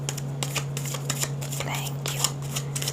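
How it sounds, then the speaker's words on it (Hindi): Tarot cards are shuffled and drawn in a quick series of soft riffling and slapping strokes, close and crisp, over a low steady electrical hum with someone speaking quietly. "अभी मैं पहले और कार्ड भी निकाल लेती हूँ"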